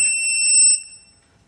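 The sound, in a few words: motorcycle blind side detector beeping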